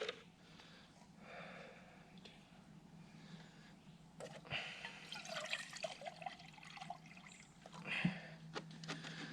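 Water poured at a lakeside forest campsite, measured out for boiling, splashing and trickling steadily at close range over low background rumble, with a few brief knocks and clatters of handling.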